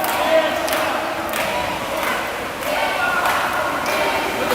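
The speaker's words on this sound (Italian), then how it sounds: "Piccolo tifo di pochi secondi." Spectators cheer for a few seconds at an under-18 water polo match between Trieste and Brescia, a steady, echoing crowd roar with some thuds and splashes from the pool.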